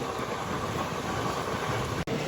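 The Chennai Central–Visakhapatnam 22802 express train running along the line, a steady rumbling roar of the coach in motion, heard from onboard with a brief dropout near the end, no talk.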